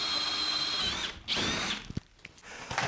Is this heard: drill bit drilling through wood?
yes